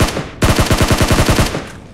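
Automatic gunfire in the mobile shooter BGMI, a loud rapid burst of about a dozen close shots in quick rhythm, preceded by a single shot and fading out with a short tail.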